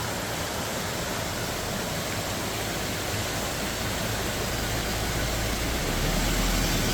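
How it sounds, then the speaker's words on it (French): A waterfall along a roadside route, heard as a steady, dense broadband rush of falling water that fills the whole scene at moderate level without a break, with no voices. "Magnifique cascade"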